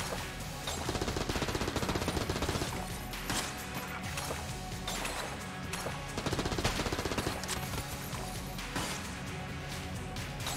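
A high fire rate gun in the roguelike shooter Enter the Gungeon fires rapid, continuous streams of shots, loud and dense, with clattering impact effects throughout.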